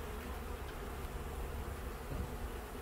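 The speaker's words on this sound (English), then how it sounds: "there's a lot more bees on the top now than there were before" A dense, steady hum of honey bees swarming around a hive during an inspection, continuous and close with no talking.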